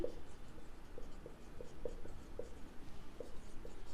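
Pen or chalk scratching out a math word-problem solution, soft quick strokes and taps in a quiet room, faint and close, with no talking.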